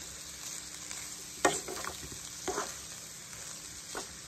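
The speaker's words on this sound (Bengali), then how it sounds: "এবার চলুন একটু ফ্রাই করে নিই" Flattened rice (poha) frying with turmeric and salt in a pan, a steady close sizzle with a few distinct spatula scrapes and stirs spaced out over the stretch, no speech.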